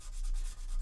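Sanding of resin model kit pieces for a Xenomorph Queen versus Predator diorama, heard as a steady, close scratchy rubbing that runs evenly throughout the short stretch with no speech.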